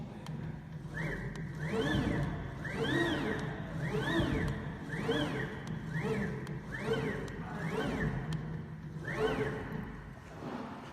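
Double-head CNC router with both spindles running together, a steady machine drone with repeated rising and falling whines in quick cycles, close and continuous throughout.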